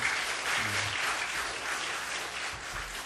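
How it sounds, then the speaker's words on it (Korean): Brief round of applause from a church congregation encouraging the kindergarten department teachers at the close of a combined worship service, even and continuous, moderately quiet, with a faint low voice murmuring underneath. "우리 유치부 선생님들 너무 수고 많이 하신데 한 박수로 한번 격려하겠습니다"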